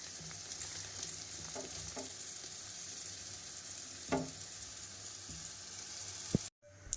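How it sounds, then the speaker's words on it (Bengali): Lentil fritters (bora) fry in hot oil in a wok, a steady close sizzle with a few sharp stirring clicks and scrapes, no voices. "এই তো বড়াগুলো ভেজে নিয়েছি, কড়াইতে তেলটা দিয়ে দিয়েছি।"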